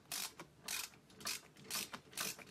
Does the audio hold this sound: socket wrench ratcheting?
yes